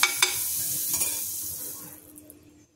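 A stuffed dabeli roasts in butter on a pan, giving a bright sizzle that starts with a few sharp crackles and slowly fades toward quiet.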